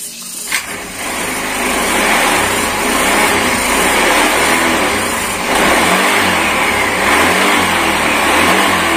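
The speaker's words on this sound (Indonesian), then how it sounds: "Kita akan coba hidupkan dengan cara diengkol." A Honda Vario scooter is kick-started with a sharp knock, then its engine runs loud and close, revving in repeated swelling waves throughout.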